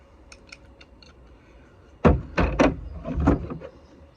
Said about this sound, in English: hear more steel wire being cut